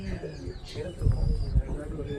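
Fancy pigeons coo in a friend's pigeon loft, low soft coos rising in a few bursts over a steady background murmur, with a voice talking faintly nearby.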